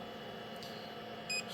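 A filament dryer box timer gives one brief, high electronic beep near the end, above a steady low hum.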